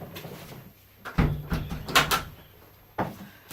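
A classroom door is pushed shut in a few knocking, scraping bumps followed by a solid thud near the end, close by and moderately loud with no voices.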